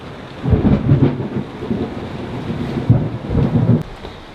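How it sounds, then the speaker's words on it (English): Heavy rolling thunder rumbles in repeated bursts over steady rain and wind, loud and close, with no talking. "That's some of the loudest thunder I think I've ever heard."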